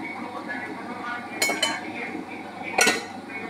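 A kadai pan is set down on a stovetop with a few sharp metallic clinks and knocks of cookware and utensils, oil added for making chutney, over quiet kitchen background.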